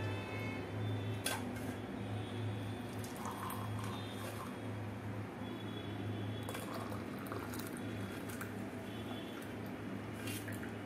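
Hot boiled liquid for a home weight-loss drink being poured through a strainer, a faint, steady trickle and splash that runs without pause.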